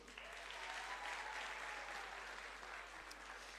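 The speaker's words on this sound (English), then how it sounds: "A round of applause for your host." Steady applause from a festival audience greeting the host at the Africa Science Buskers Festival, a dense even wash of many hands clapping throughout at moderate volume, with no voices standing out.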